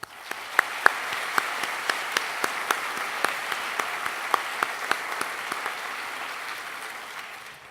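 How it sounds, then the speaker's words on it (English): An audience at a university convocation applauds steadily, a dense wash of clapping with a few louder individual claps standing out, sustained for several seconds before tapering slightly. "Let's give all of them a round of applause and thanks."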